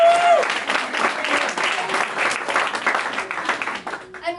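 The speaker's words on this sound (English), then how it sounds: "give yourself a round of applause." An audience breaks into loud, dense applause with scattered cheers, holding steady for several seconds before thinning out, while a speaker's voice is heard over it.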